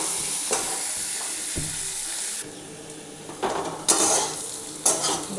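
Onions frying in a pan for a pointed gourd and fish curry, a steady broadband sizzle with occasional louder stirring scrapes and clinks of a utensil against the pan, close and alone.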